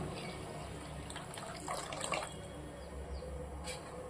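Boiling hot water poured into a pan of anchovy fish curry, a steady soft splashing and trickling stream that runs throughout, close and fairly quiet with no talk.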